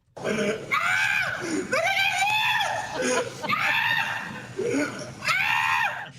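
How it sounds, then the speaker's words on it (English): Man screaming loudly while fleeing a charging goat and climbing onto his car roof, four long strained wailing bursts separated by short gasping pauses. "that screaming is the man who ran onto the roof of his car to get away"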